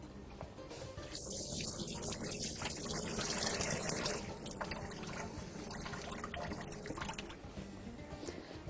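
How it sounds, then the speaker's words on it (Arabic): Hands being washed under a running tap, a steady close splash and trickle of water into a sink that continues throughout. "نغسل يديا ونرجع لكم"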